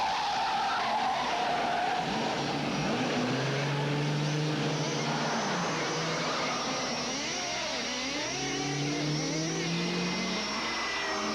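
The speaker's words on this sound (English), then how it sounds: "the famous car chase in Bullet is parodied when Harry's car is chased by a tiny model car that has plastic explosives inside" Tires skid and squeal through a car chase parodying the famous Bullitt pursuit, with engines roaring continuously and loudly and screeching tones sweeping up and down, no talk over it.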